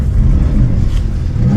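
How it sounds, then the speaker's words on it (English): A race car engine on a track day rumbles loudly and close, a deep low throbbing drone that surges slightly as it revs, with no speech. "let's get in the car, get her fired up,"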